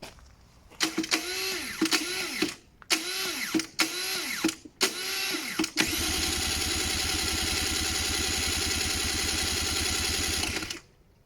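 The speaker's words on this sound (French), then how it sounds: "J'ai beau me servir du démarrage électrique." Electric starter on a 50cc motorcycle cranking in several short whirring bursts, then one long continuous cranking run without the engine catching, close and fairly loud.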